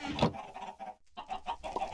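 Chickens cluck close by in a short burst of several choppy calls with a brief pause in the middle, moderately loud and clear, with no talking over them.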